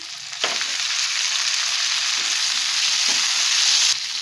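Cut okra sizzling with onions in a hot pan, a loud steady crackle and hiss that swells after a brief stir, with occasional soft scraping bumps and no voices.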